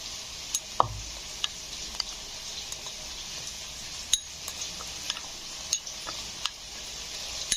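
A spoon stirs poppy seeds soaking in a little water. There are faint, scattered clinks and soft scrapes against the bowl at an uneven pace.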